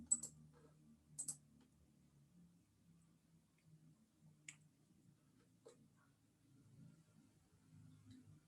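Quiet computer keyboard typing with a few sharper clicks and scattered keystrokes, faint and close in an otherwise quiet room, no talking.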